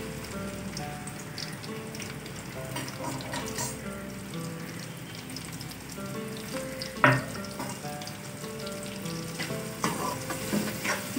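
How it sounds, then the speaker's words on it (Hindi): Two medium onions fry in hot oil left from frying potatoes, a dense steady sizzle with occasional stirring scrapes and spatters, close and continuous. "दो प्याज थी हमारे पास मीडियम साइज़ की। अब ये इनको लाइट ब्राउन करेंगे हम।"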